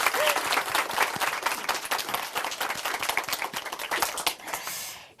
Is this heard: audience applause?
yes